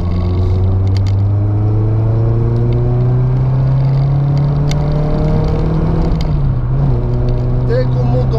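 Engine of a 1991 Renault Clio 16S revving steadily high in the rev range, a loud continuous drone with rising harmonics and a brief dip near the end, heard from inside the car.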